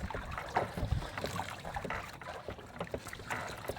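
Fishing boat heading out to sea, with wind buffeting and water splashing steadily around the hull, rough and continuous with no voices.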